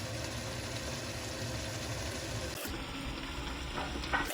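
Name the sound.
chopped potatoes frying in pan for biryani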